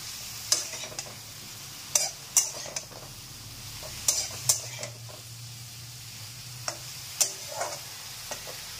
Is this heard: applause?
no